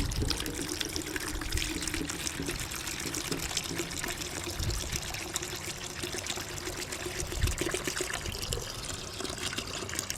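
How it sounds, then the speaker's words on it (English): Water pours steadily into a car-detailing keg, a continuous splashing and trickling stream that runs unbroken and fairly loud at close range, with no voices over it. "I'm gonna put half a gallon more water."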